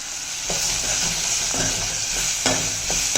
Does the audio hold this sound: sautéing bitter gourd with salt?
yes